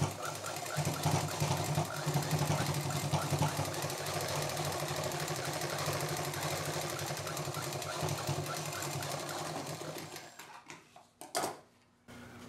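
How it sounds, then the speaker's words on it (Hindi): A sewing machine stitches a sling bag with a continuous rapid mechanical chatter. It runs steadily for about ten seconds, then slows and stops with a few clunks. "डबल मशीन चलाते हुए इसको यहाँ पर इस तरह से सिल देंगे।"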